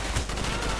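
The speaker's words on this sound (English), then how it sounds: "You shoot a civilian, watch your fire." Gunfire in Call of Duty Black Ops, a short dense burst of rapid shots that stays loud and continuous throughout the brief moment.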